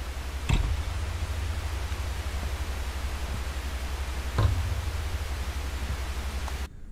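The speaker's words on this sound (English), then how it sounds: "I like the white noise" Steady hissing white noise static fills the scene in a horror video game set in an abandoned village, constant and fairly loud with a low hum underneath, broken by a couple of brief clicks before cutting off abruptly.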